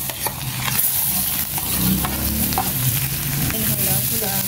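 Shrimp fry with garlic in butter in a pan, giving a loud, dense, continuous sizzle up close, with occasional stirring scrapes and pops laid over it, and no talking.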